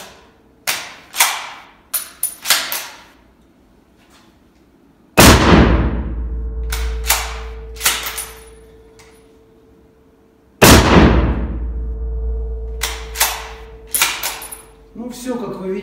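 Several very loud firearm shots crack out with booming echoes, each louder than a Mauser carbine, spaced several seconds apart, while people talk between them.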